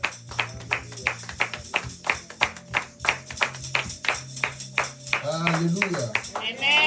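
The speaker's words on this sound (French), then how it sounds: "On peut applaudir encore." A church congregation claps in a steady rhythmic beat during worship, a loud voice calling out over the clapping and singing voices rising near the end.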